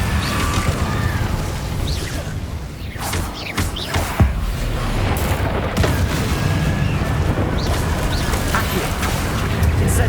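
Incendio fire spells in Hogwarts Legacy during a goblin battle, with repeated booming bursts and crackling impacts spread over a constant, loud wash of combat noise.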